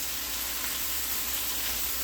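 Garlic sizzling in a pan over medium heat, a steady, dense frying hiss that is close and continuous throughout with no voices.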